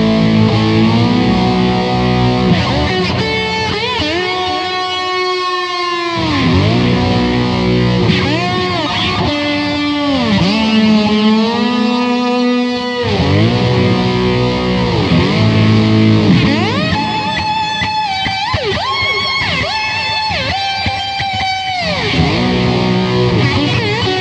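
Lap steel guitar through heavy delay, reverb and phaser, playing a song in a tribute show setting; loud sliding, gliding sustained notes with long echoing tails and distorted grit, no talking.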